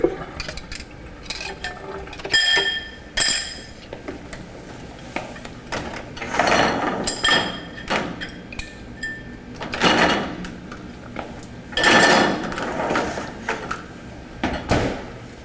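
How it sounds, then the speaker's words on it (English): Dishes and utensils clatter and clink repeatedly in a kitchen as they are loaded into a dishwasher after baking corn muffins, with irregular bursts of knocks and scrapes close by. "And now I'm going to take this and put it in the dishwasher."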